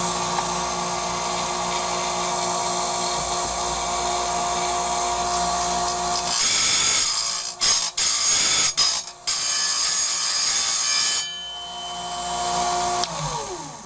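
A 40-tooth carbide-tipped saw blade is sharpened with a power tool. A steady, high whine runs throughout, broken midway by several loud, choppy grinding bursts, then settles back to the whine.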